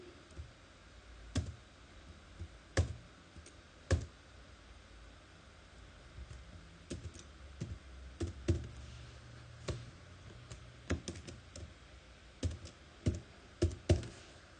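Someone types a short word on a computer keyboard, sparse close clicks spaced irregularly over a quiet hiss, then a quicker cluster of keystrokes near the end.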